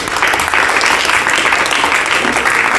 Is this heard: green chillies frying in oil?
no